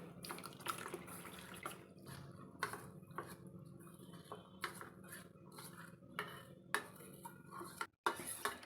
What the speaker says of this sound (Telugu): ఒక బౌల్ తీసుకొని దీంట్లో కార్న్ఫ్లోర్ వేసుకొని ఒక కప్ వాటర్ పోస్తూ ఇలా ఉండలు లేకుండా బాగా కలుపుకోవాలి